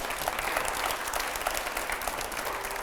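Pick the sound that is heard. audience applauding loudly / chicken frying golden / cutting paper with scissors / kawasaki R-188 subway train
audience applauding loudly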